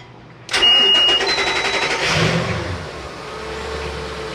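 A Mercury MerCruiser 8.1L big block port boat engine on a 2003 Sea Ray cranks briefly and fires, then settles into a loud, steady idle. The sound is close, with no talking.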